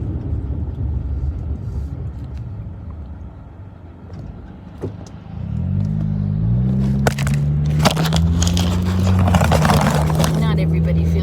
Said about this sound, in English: We have an ambulance going by.